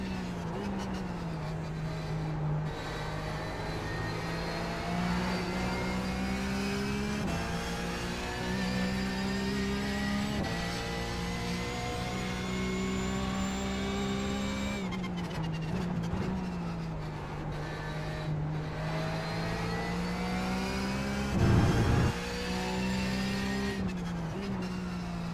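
Porsche Cup race cars in iRacing at Watkins Glen, engines droning and shifting through gears with steady harmonic whine, rising and dropping pitch as they accelerate and brake, continuous and fairly loud with a brief burst of extra noise near the end.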